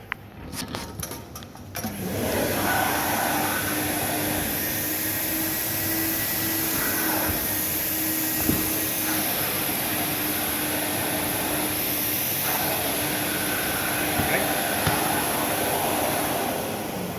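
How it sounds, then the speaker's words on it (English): Carpet extraction vacuum switches on with a brief clatter and then roars steadily for many seconds, a loud continuous whine pulling dye out of carpet. "Please turn on the vacuum."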